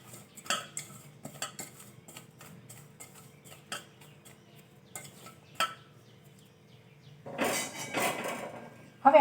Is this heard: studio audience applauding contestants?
no